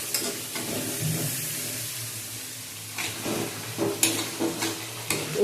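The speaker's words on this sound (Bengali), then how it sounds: "ভালো করে ভেজে দেখা হচ্ছে তোমাদের" Onions frying in a pan with green chillies, a steady sizzle and hiss with repeated scraping stirs of a spoon toward the end.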